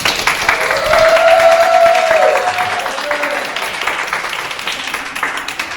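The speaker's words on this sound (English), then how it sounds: "Let's give Weston a round of applause." A small audience claps for a guest on a marketing show. Individual hand claps are distinct and close, and a sustained vocal cheer rises over them early on before the clapping thins toward the end.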